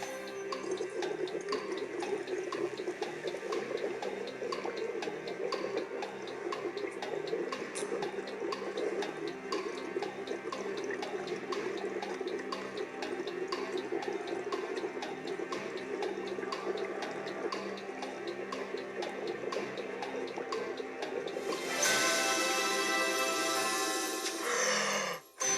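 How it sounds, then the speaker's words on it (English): Bubbles blown through drinking straws into a liquid, a steady bubbling, gurgling wash that continues throughout and swells louder and brighter near the end, with no talking. "So, just take your straws, put it into the liquid, and we'll blow bubbles."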